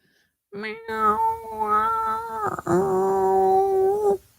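A person imitates an angry, hungry cat with two drawn-out, wavering meows, close and loud, separated by a brief break.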